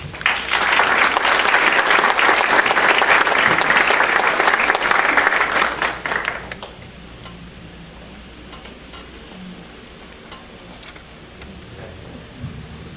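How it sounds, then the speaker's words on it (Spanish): A full hall applauds loudly and steadily at a public-health association event, then the clapping drops away abruptly to quiet room tone with a few scattered faint claps. "Recibámoslo con un fuerte aplauso."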